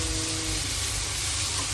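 Bangda mackerel fries Konkani style in a pan, a loud, dense, continuous sizzle that fills the short moment with no breaks and no clear sound of the fish being turned.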